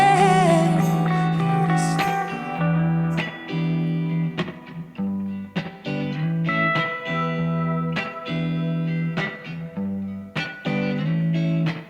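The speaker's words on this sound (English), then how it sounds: "das war mit Sicherheit der so ziemlich coolste E-Gitarren-Sound" Distorted electric guitar chords ring and chug in a driving rhythm, thick and buzzy, with sharp attacks repeating steadily throughout.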